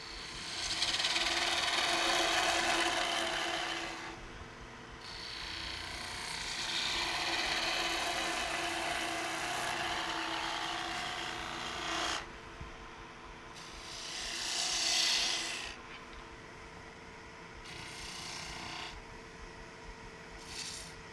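Wood turning on a lathe with a spindle gouge: a steady whirring hum of the spinning lathe overlaid by scraping, hissing cuts that come in several long passes separated by brief pauses, fairly quiet and close.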